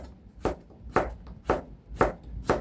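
A knife chops zucchini on a cutting board in five evenly spaced, crisp thuds about half a second apart, close and clear.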